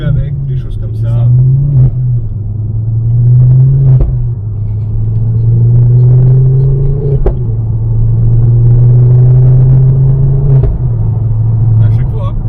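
A Ford Focus RS engine drones loudly at close range, with a low steady rumble broken by brief sharp pops at each gear change, while people talk over it.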